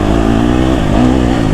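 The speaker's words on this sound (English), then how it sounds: "I can just continue revving out second as far as I want." A KTM 250 SX-F dirt bike engine revs out in second gear in a forest, a continuous loud droning high-pitched whine with slight rises in tone, close by and with no voices.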